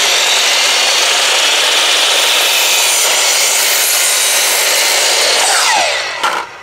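A hand saw rasps steadily through a 1x12 wood board being cut into a side panel for a rabbit nesting box, one loud continuous stroke of cutting that fades as the piece breaks free.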